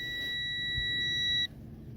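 A TESMEN TM-510 digital multimeter gives a continuous shrill continuity beep for about a second and a half, then cuts off abruptly, leaving low background hum.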